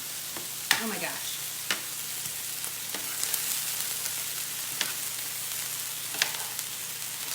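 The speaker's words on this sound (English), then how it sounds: "Can you hear it sizzle?" Chicken fajitas sizzling in a pan, a steady close crackling hiss with occasional sharp clicks and scrapes of stirring, no voices over it.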